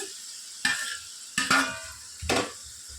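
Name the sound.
potatoes frying and being stirred in a pan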